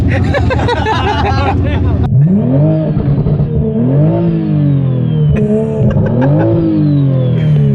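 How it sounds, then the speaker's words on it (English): A turbocharged 900hp Toyota Supra engine revs hard and rises in pitch several times, loud and close, with people talking underneath. "the turbo sounds insane on this"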